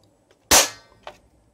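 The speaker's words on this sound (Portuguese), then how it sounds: "Não é recomendável ficar dando disparos a seco, mas eu vou disparar aqui, ó." An M4A1 spring-powered airsoft rifle is dry fired without BBs: one sharp, loud crack with a quick decaying tail, followed by a fainter mechanical click shortly after, with no talking.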